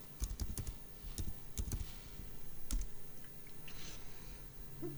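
Typing on a computer keyboard while entering a status command for a camera stream service on a Raspberry Pi 1B, with irregular close clicks in quick bursts and pauses, no talk.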